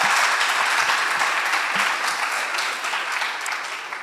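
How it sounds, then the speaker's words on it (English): A school debate audience at a high school competition between Alliance and Nyeri breaks into loud, sustained applause that fills the whole stretch, easing off slightly toward the end. "A greater round of applause, please"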